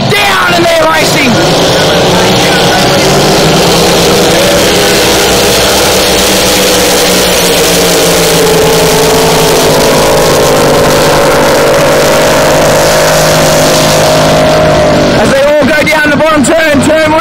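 Powerful race boat engines roar as racing boats Mongoose, Odin and Bad Influence leave the start, a loud sustained drone with shifting pitch under a commentator's voice.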